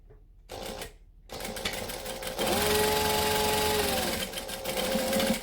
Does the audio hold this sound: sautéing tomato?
no